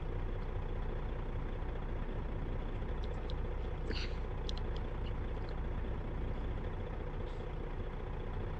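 Steady low truck engine drone with a mini engine mod in American Truck Simulator, a continuous even rumble heard alone with a few faint brief higher clicks partway through.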